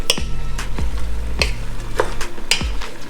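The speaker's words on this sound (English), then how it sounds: "shredded bamboo shoots. Mix it up." Shredded bamboo shoots are stirred in a pan for sukiyaki, giving about six loud, rhythmic scraping strokes over a soft background sizzle.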